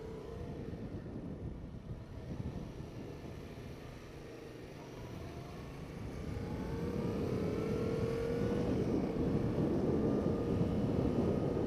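A Yamaha MT-07 motorcycle engine under way, a low rumbling drone blended with wind noise that swells louder as the engine pulls and rises in pitch toward the end.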